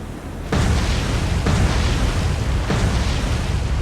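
Naval gunfire from a warship in the War on the Sea game, three heavy booming blasts about a second apart over a dense roaring rumble, loud and sustained, with no talking.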